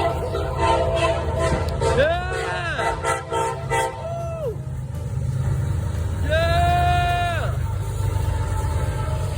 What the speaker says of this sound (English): I had to get off of the tracks because of this big train.